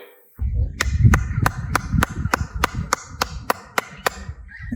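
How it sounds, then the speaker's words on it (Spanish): Handclaps at the Tikal ruins in Guatemala, about a dozen sharp claps in a steady rhythm, each returning a chirping echo like a quetzal bird over low outdoor murmur. "si uno aplaude, se escucha el sonido de un pajarito, que es el del quetzal"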